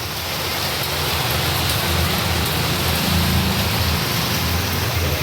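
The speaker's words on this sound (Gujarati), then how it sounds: "બાકી તો કાલનો ચાલુ જ છે વરસાદ" Steady, heavy rain pours without a break, a dense even hiss of drops falling on surfaces.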